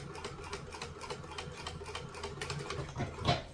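Sewing machine running a steady stitch through fabric while sewing past a pocket, a continuous mechanical whir with rapid needle ticks, moderately close and alone, with a slight swell near the end.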